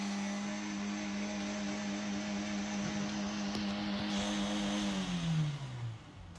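A car engine revs hard in a steady high-pitched drone, holding its pitch before sliding down as it eases off, fairly quiet and alone.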